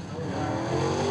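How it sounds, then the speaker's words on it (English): A Grand Prix race car at Wartburg Speedway during qualifying, its engine a loud steady roar as it passes close by, without pause. "And showtime comes by and trips the clock, trying to start lap one in his Scott Pass DWB Grand Prix"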